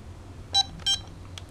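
Mattel Electronics Baseball handheld video game giving two short electronic beeps in quick succession, close and clear, followed by a fainter third blip over a quiet background.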